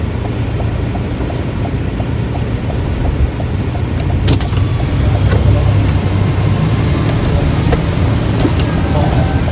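Heavy, congested road traffic in Manila during light rain. A dense, continuous roar of cars, buses and trucks fills the scene from close by, with someone talking over it.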